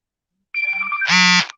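A mobile phone's electronic ringtone chimes in, starting with a thin melodic tone and swelling into a loud, buzzy ringing burst that stops abruptly after about a second.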